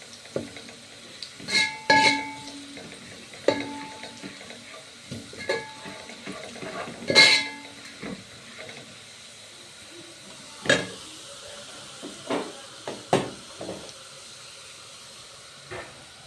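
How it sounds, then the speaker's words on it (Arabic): Tripe is stirred in a pan with ghee and garlic, giving scattered scrapes and clinks over a soft background hiss of frying. The sound is close but fairly quiet, with several brief clatters of the utensil. "ابدا احور فيها كده"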